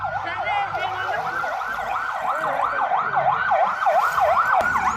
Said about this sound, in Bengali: তারপর ফায়ার সার্ভিস চলে এসেছে